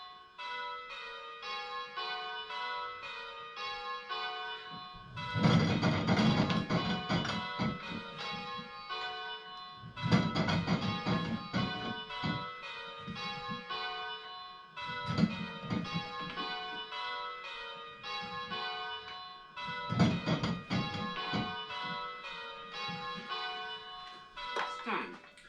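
Church bells ring in rounds on a bell-ringing simulator, repeated clear metallic strikes in steady cycles with louder bursts every few seconds, close and unaccompanied by talk.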